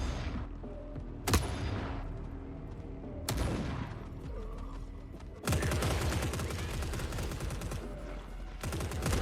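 Heavy GM6 sniper rifle shots in The Forever Winter, two sharp loud cracks with ringing tails a couple of seconds apart, then a dense stretch of rapid gunfire and battle noise.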